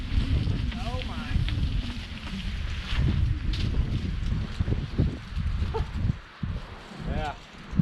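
Gusts of wind buffet the microphone in a forest during hammock camping, a rumbling, uneven roar rising and falling throughout, with people talking over it.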